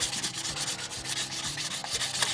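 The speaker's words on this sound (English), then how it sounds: "I'm going to start by wet sanding it with 400" Steady, rhythmic wet sanding with 400-grit sandpaper on a resin-finished turned wooden pen, back-and-forth strokes close up and fairly loud, continuing without pause and with no voices.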